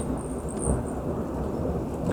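Rain falls steadily over a low continuous thunder rumble during a spring storm in the Southern California mountains, a dense even hiss with no voices.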